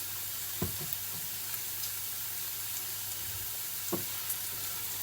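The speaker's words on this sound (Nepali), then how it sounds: "बेसारलाई खैरो गरिदिने, थोरै बेसारलाई पनि भुट्ने।" Onion, chili and turmeric fry in a pan with a soft, steady sizzle, broken by a few faint clinks and stirring scrapes, quiet and close.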